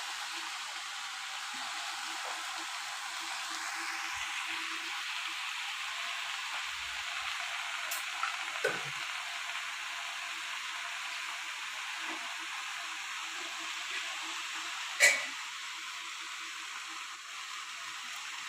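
Dhantina soppu greens frying in a pan give a steady soft sizzle and hiss throughout, with a few faint scrapes and one sharper clack as they are stirred.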